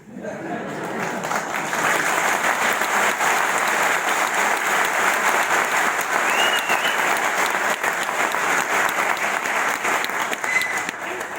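Seminar audience in a hall giving steady, loud applause that fills the whole stretch, dense clapping with a faint crowd murmur underneath.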